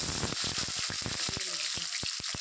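Onions fry in a pan after tempering spices, a dense close sizzle overlaid by a rapid series of sharp clicking ticks and crackles across a couple of seconds.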